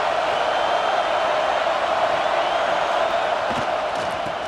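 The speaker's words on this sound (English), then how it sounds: "This crowd bringing an ear-splitting welcome to their visitors." Stadium crowd in EA Sports College Football 26, Boise State vs Oregon Ducks, giving a loud, sustained roar of cheering that stays even throughout with no commentary over it.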